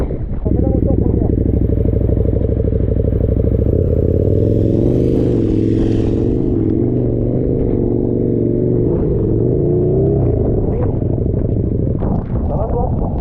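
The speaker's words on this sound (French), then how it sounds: "On met la moto en première." A motorcycle engine runs steadily close by, a low harmonic drone that shifts pitch mid-way as it is put in first gear and pulls off, with a brief clatter near the end; voices talk over it.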